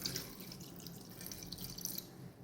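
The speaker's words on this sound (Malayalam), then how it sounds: "കുറച്ച് വെള്ളം ഒഴിച്ചു കൊടുക്കാം" Water trickling and splashing into a cooking pot of rambutan and salt, a light continuous pour with faint drips, fairly quiet and without voices.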